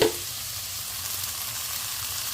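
Onions, ginger and green chilli sauté with coriander powder in a pan, giving a brief, even, continuous sizzle close up after a small initial stir.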